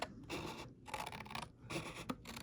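Scissors snipping diagonally through folded paper for a sequin gift envelope, three or four short rasping cuts in quick succession with brief pauses between, close and quiet, no talking.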